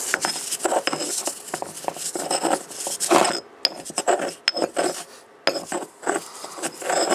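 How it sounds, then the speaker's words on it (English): Tea leaves ground with a mortar and pestle in an off-grid tiny house, close scraping and rasping strokes in an uneven rhythm with brief pauses, no talking. "Mortar, pestle. Let's grind this puppy up."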